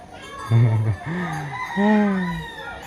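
Chickens and a rooster in a rural Thai village yard, several loud harmonic crows and clucks close by in quick succession, with no talk over them.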